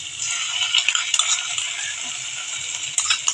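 Ridge gourd and shrimp being stir-fried with a poppy seed and green chilli paste, a steady soft sizzle with light scraping and stirring clatters of a utensil against the pan throughout, no voices.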